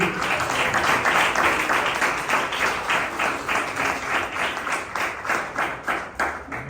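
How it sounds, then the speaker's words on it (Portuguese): At a Sunday night church service, the congregation claps in praise of the Lord, producing loud, rhythmic applause with evenly pulsing beats that continues for several seconds. "Palmas que exaltam o nome do Senhor"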